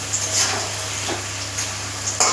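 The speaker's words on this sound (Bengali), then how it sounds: "তেল গরম করে কিছুটা লবঙ্গ ফোড়নে দিয়ে আলুটা ছেড়ে দিচ্ছি, সামান্য একটু নুন দিয়ে লাল লাল করে ভেজে নিচ্ছি" Potatoes with cloves fry in hot oil in a pan, a soft steady sizzle with a few faint clinks of stirring.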